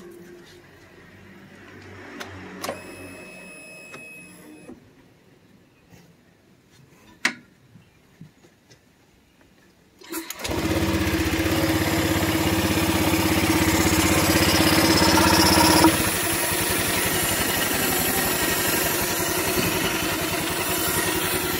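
A Honda Vario scooter engine is cranked over after a few ticks and clanks, catches with a burst, and settles into a steady close idle with a constant hiss from the open intake, easing slightly near the end.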